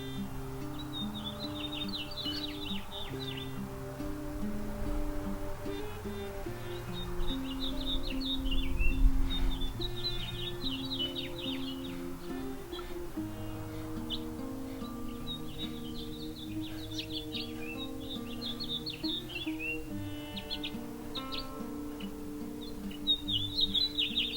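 Small birds chirp and twitter in bursts over a steady hum of low sustained tones, the calls fairly faint and scattered throughout.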